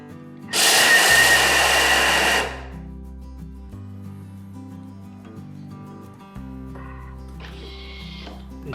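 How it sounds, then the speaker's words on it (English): Blender grinding peanuts for satay sauce roars loudly in one burst of about two seconds, then stops, followed by a quieter, shorter whir near the end over soft background music. "I need to blend all the nuts. We're gonna turbo it for one time for see the consistency first."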